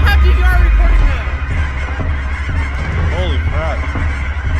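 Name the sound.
birds honking near drone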